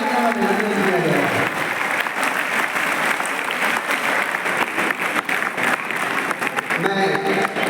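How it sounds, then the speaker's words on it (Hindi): Loud, sustained applause from an audience at a university poet gathering in Gorakhpur, greeting the vice-chancellor on his birthday; dense clapping fills the whole stretch with crowd murmur and a voice briefly audible over it. "जोरदार तालियों से स्वागत का अभिनंदन किया गया"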